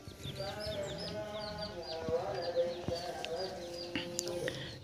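A newborn lamb bleats in repeated short cries among other faint animal calls on a farm beside a house, with soft voices murmuring underneath and a few sharp knocks.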